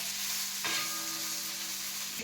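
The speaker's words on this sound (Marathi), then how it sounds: "आता अशी भाजून घ्यायची ना मिरची" Green chillies and garlic roast in a pan with a constant, fairly soft sizzle, joined by a steady low hum. A brief scrape of stirring comes partway through, and no voices are heard.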